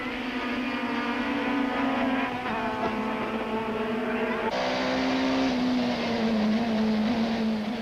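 1995 Super Touring Cars, including Audis, race at Aldo Scribante circuit. Engines scream at high revs and shift pitch through gear changes, loud and sustained, with a racing pack's roar.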